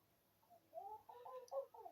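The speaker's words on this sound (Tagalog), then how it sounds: "Sumasagot yung kalapati." A dove coos in a short series of soft, low, hollow calls that rise in loudness toward the end, heard alone and fairly close.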